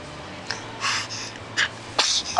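A baby gives several small, breathy sneezes in quick succession, soft and close, against a faint steady hum.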